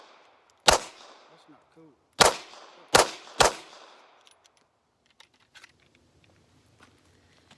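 Four sharp, loud gunshots ring out from a Smith & Wesson 500 revolver, spaced unevenly with a longer pause after the first, each followed by a short echoing decay. Faint handling noises and a brief voice follow.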